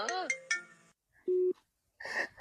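A mobile phone rings with an incoming call, a short steady electronic tone sounding once between bursts of nearby talk in a home comedy scene.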